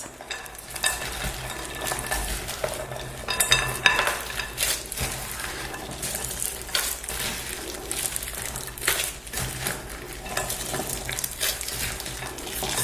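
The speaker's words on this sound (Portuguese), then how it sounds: "Agora eu só vou misturar esse recheio aqui na massa." Filling being stirred into bread dough, a continuous wet squishing and scraping with irregular bursts of louder mixing strokes and occasional knocks against the bowl.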